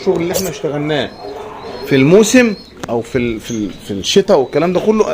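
Pigeons in a loft give repeated low, rolling coos, near and fairly loud, with someone talking over them throughout.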